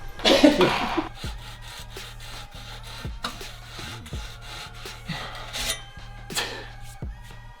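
A saw cuts through parts on a Toyota Tundra truck being stripped of its grille and bumpers. Close, repeated rasping strokes come in an uneven rhythm, with a brief cough-like burst near the start and scraping between strokes.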